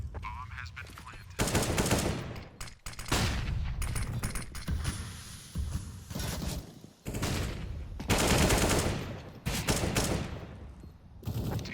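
Automatic gunfire in the Counter-Strike video game, loud rapid bursts and sustained sprays repeating across the stretch, broken by short pauses, with no talk over it.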